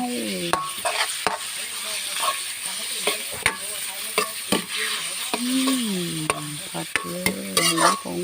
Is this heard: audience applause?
no